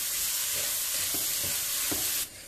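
Pineapple cooks down in sugar in a pan for a crepe roll filling, giving a steady close hiss and sizzle with a few soft stirring knocks, then dropping quieter near the end. No one speaks.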